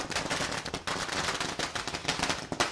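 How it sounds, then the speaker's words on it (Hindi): Dense rapid crackling bursts of firecrackers and fireworks at a street celebration in India, loud and continuous, with drums likely buried in the mix and no clear talk. "ढोल नगाड़ों के साथ लोग जमकर आतिशबाजी कर रहे हैं।"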